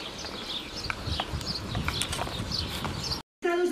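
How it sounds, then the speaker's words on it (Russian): Horses kept at a stable in Spain, with irregular hoof taps and clip-clops on a hard surface amid outdoor ambience and faint birds, briefly dropping out near the end. "Тут вот в основном вот в этой зоне лошадей держат."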